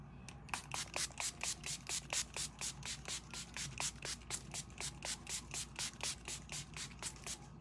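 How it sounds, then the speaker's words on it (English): Rapid series of short bursts of makeup setting spray, about four per second in an even rhythm, close up and fairly soft, with no talking. "we're going to set our face with Time Locker setting spray"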